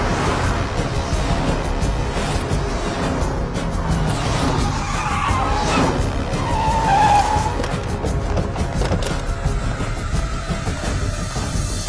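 A car skids hard with a long tire squeal over a steady engine roar in a Hindi action film scene, loud and sustained for several seconds.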